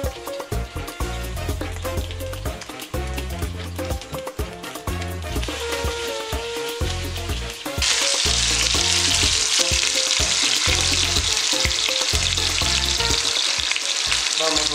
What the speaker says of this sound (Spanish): tomar el rabo de res e irlo dorando en el aceite de oliva ya caliente